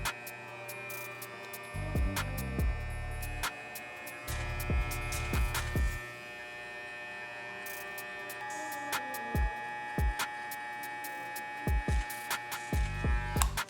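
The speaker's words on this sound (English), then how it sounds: "Using just the corners of the clippers, guys, take each of these notches up just slightly." Electric hair clippers buzz with a steady mains-like hum while cutting a mid fade, with scattered small clicks and low thumps as the clippers are worked through the hair.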